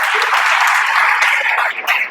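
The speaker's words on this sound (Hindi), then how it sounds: "चलिए एक बार और तालियां बजा दीजिए।" Audience in a hall applauding after a poem about Rana Pratap, a loud close burst of massed clapping that holds steady and then tapers off at the end.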